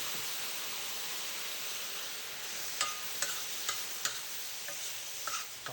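Fava beans sizzle in a hot pan as soy sauce glazes them, a faint continuous hiss broken by a few light clicks of stirring toward the end, with no voices.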